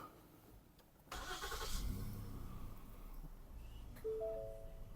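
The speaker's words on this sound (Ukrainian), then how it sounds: "Автомобіль завівся, включився вже газ" A 2015 Ford Edge 3.5 V6 engine running on gas/petrol cranks and catches after a second of quiet, settling into a steady idle, followed by a short electronic chime.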